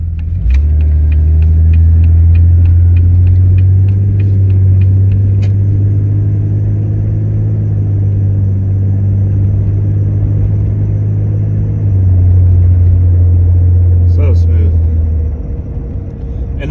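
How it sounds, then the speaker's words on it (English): A 2000 Jeep Cherokee XJ with a 4.0L inline-six idles steadily after an ignition coil replacement, a loud, even low rumble close by that barely changes, with light ticking over it. "hopefully it's actually just loud enough for you guys to hear the engine"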